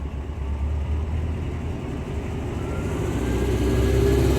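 A cold car engine fitted with an IDF carburetor hums close by at a low, steady pitch, then swells louder as it is accelerated toward the end.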